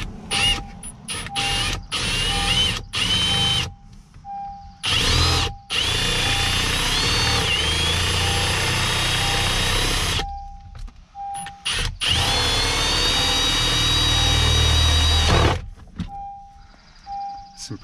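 A drill motor with a spade bit bores through tough plastic inside a 2017 Honda Ridgeline, loud whirring bursts broken by short pauses, with two longer sustained runs.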